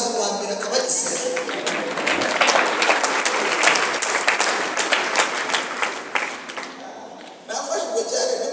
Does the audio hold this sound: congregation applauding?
yes